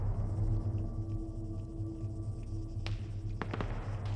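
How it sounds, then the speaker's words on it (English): Sharp grenade blast in a tactical first-person shooter match, a single sudden burst with scattered debris crackles, heard against a steady low hum. "That's a really well-placed nade right there."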